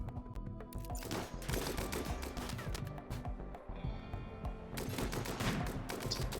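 Dense gunfire rattles through a firefight in the video game Rimworld, overlapping bursts and single shots crackling continuously and loudly, with no talking.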